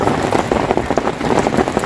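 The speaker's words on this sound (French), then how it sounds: "La pluie alors que c'était pas prévu." Steady rain shower patters densely onto a dam lake and nearby surfaces, a loud, continuous hiss of drops close by with no voices.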